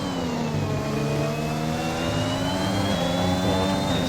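Formula 1 engines from a Ferrari and an AlphaTauri wail continuously in an F1 racing game, a steady, loud, high-pitched drone with slowly shifting pitch and no talk over it.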